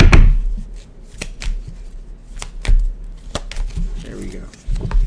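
Tarot cards being shuffled by hand, a run of quick papery riffles and soft taps in an uneven rhythm, close and fairly loud, with talking mixed in.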